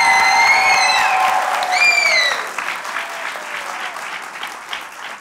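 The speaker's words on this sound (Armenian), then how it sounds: "Հաղթողին որոշելու համար պետք է ժյուրի, բայց մենք ժյուրի չունենք, դրա համար պետք է որոշենք ծափերով։" An audience claps to pick a winner at a kids' talent show, the applause steady and crowd-wide while a voice speaks over it at first, then continuing alone as it thins out.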